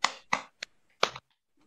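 Sharp hand claps from a group in a school training session ring out in a quick uneven sequence, loud and close, with short silences between them.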